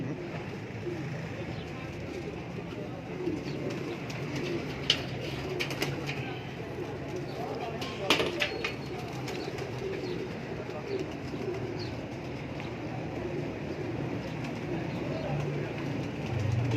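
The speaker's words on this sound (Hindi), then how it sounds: "बहुत ही नायाब परिंदे दिखा रहे हैं आपको इकबाल भाई के।" Pigeons at a breeding loft coo softly and continuously in the background, with a few faint chirps and brief clatters over a steady ambient hum.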